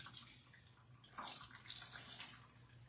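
Water runs out of a woman's hair during a rinse on wash day, a soft, steady stream and splash that swells slightly midway, with no voices.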